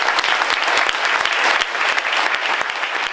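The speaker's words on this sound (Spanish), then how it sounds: "Una cerrada ovación de cariño y reconocimiento recibió el mensaje de la abuela más emblemática" Sustained, dense applause from a large audience giving an ovation after a speech by Estela de Carlotto, steady and loud throughout with many close individual claps and no voices.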